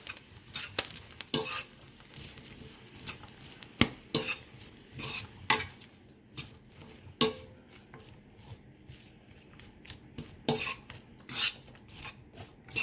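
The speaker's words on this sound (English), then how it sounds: "mixing up with all those pieces of garlic and that minced garlic" A utensil scrapes and clinks against a hot pan while minced garlic and garlic pieces are stirred for sautéed oyster mushrooms, giving irregular sharp taps and scrapes close by with no talking.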